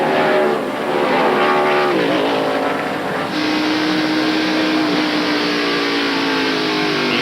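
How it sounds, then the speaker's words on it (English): NASCAR stock cars at the 1993 Save Mart Supermarkets 300 road course race roar through a turn, a loud, continuous engine drone with shifting pitch as cars accelerate out of the corner and pass by. "He's just now going out of turn 7, Benny."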